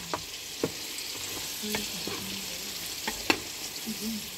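Chicken breast fries in a pan with a steady sizzling hiss, broken by a few sharp pops and stirring clatters, close and moderately loud with no talk.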